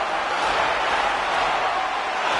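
Arena crowd in NHL 25 cheering at the end of a Maple Leafs–Canucks game, a steady broad roar of many voices that holds at an even level without breaks.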